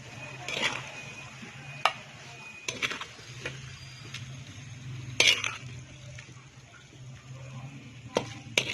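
Chicken macaroni scooped from a pan into a serving dish, heard as scattered sharp clinks and scrapes of a spoon against metal and crockery, with quiet gaps between the knocks.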